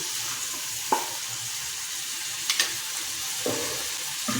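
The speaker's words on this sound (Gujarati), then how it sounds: "हवे आपणे एमां લીલા વટાણા एड करीशुं। बधुं सारी रीते मिक्स करी लईशुं।" Green peas are stirred into paneer pulao in a hot pan, a continuous soft sizzle broken by a few sharp spoon scrapes and clinks against the pan, close and without talk.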